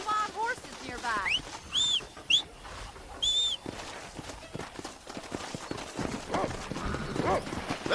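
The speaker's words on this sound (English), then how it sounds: "there's a pack of wild horses nearby" In the Red Dead Redemption video game, horse hooves clip-clop in a rapid galloping rhythm amid open-range ambience, with faint rooster and bird calls early on.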